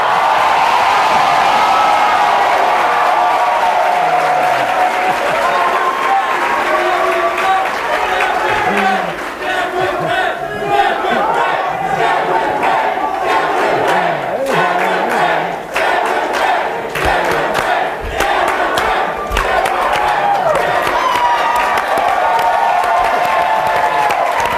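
A convention crowd at a youth political gathering cheers, shouts and applauds continuously, a loud dense roar with whoops and clapping throughout and voices rising above it.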